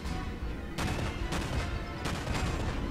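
Warship secondary guns fire on a destroyer in World of Warships, sharp booming volleys repeating every second or so over a continuous rumbling battle bed.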